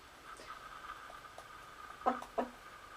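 Faint hens clucking softly at a distance, a few scattered short clucks followed by two louder ones near the end.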